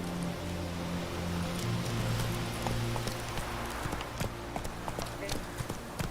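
Horse hooves clip-clop in The Witcher 3 as the mount arrives, a run of sharp clicking steps over steady game ambience with music-like tones, while a person talks through it.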